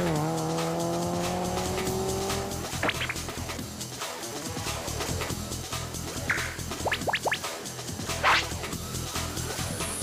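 A car's engine revs up hard as it accelerates to overtake, a rising engine whine followed by road roar and brief tyre squeals, fairly loud with no talk.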